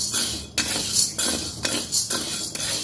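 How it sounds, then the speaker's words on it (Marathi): Sago is stirred and dry-roasted in a heavy pan for fasting laddoos, with close, repeated scraping and clinking strokes of a spoon against metal in an uneven rhythm, and no talk. "एकसारखं हलवत राहायचं आहे, म्हणजे त्याचा कलर बदलेपर्यंत भाजायचा आहे तो आपल्याला।"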